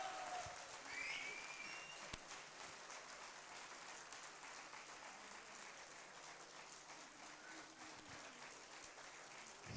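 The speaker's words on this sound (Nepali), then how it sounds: "अझै जोरदार ताली बजाइदिनुहोस् न त्यसो भए त" A large audience at an innovation talk gives a standing ovation for Ranjit Acharya, with a dense, continuous roar of clapping that stays loud and steady for about ten seconds.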